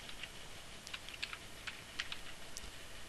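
Rapid keystrokes on a computer keyboard while a search is entered, a quiet, irregular run of light clicks with no talking.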